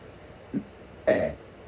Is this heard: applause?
no